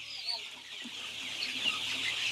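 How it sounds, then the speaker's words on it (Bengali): Many Egyptian Fayoumi chickens of different ages cluck and murmur together in a large poultry farm shed, a soft continuous chorus of overlapping calls at moderate volume. "ভিন্ন ভিন্ন বয়সী মুরগি রয়েছে।"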